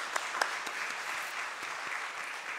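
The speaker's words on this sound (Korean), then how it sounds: "다시 한번 감사의 박수" Church congregation applauding after a sermon at a Sunday worship service, a steady wash of many hands clapping at moderate volume with no voices over it.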